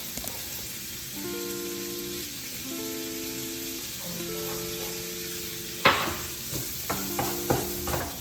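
Chickpeas being stirred in a pan with paprika, cumin and garlic granules, a soft scraping and sizzling with a few sharp clinks of utensil on pan near the end, fairly quiet and close.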